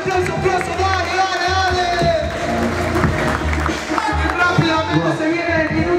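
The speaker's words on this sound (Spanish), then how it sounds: "¡Aplauso!" Crowd at a freestyle rap battle breaks into applause and cheering, a dense wash of clapping with whoops and shouts, moderately loud, mixed with overlapping voices.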